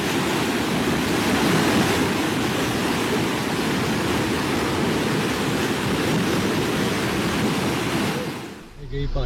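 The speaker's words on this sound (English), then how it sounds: "Always be cautious of big waves." Big ocean waves roar in a dense, continuous rush of surf with wind buffeting the microphone, loud and close, easing briefly near the end.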